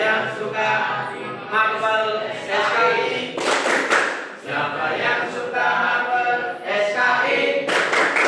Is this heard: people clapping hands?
yes